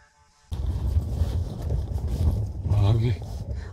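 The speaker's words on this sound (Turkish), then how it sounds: "Çok fazla rüzgar var herhalde, tepe nokta olduğu için. O yüzden fazla rüzgar esiyor." Strong wind buffets the microphone at a hilltop campsite at night after a quiet start, roaring in gusts that flap and rumble continuously.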